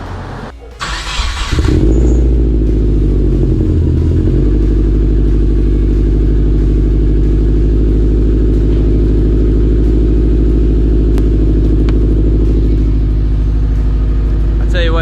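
A car engine cranks and catches, then settles into a loud, steady, deep idle rumble close by for the rest of the stretch, while cars are shuffled around a driveway before an oil change on a Volkswagen GTI.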